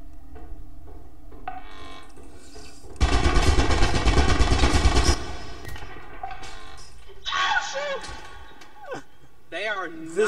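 Automated turret firing inside a facility in Lethal Company, a loud dense burst lasting about two seconds amid voices talking before and after.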